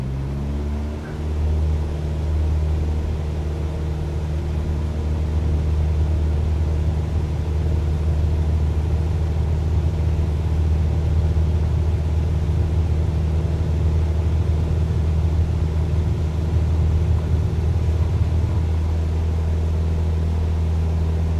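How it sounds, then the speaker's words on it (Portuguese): Small aircraft engine at full throttle for takeoff in Microsoft Flight Simulator 2020 in Alaska, a loud steady droning roar with a strong low hum that holds unbroken for about twenty seconds. "Potência total, porque para decolar aqui deve ser meio tenso."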